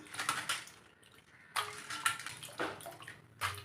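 Cleaned crab is rinsed in a basin of water, giving a series of close splashing and sloshing bursts with short quiet gaps between them.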